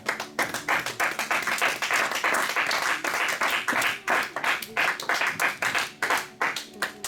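A church congregation claps together in praise of God, dense rhythmic clapping that keeps going steadily for several seconds without a break.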